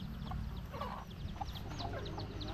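Chickens cluck softly in short, scattered calls over a faint, continuous background hum, with a few chicks nearby on a rural property.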